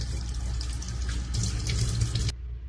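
Tap water runs steadily into a sink during washing, a close, even splashing stream that cuts off abruptly near the end.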